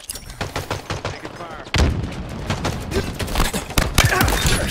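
Rapid automatic gunfire in Halo Infinite multiplayer, dense bursts of shots with a heavier barrage kicking in partway through, loud and close with faint game voice callouts mixed in.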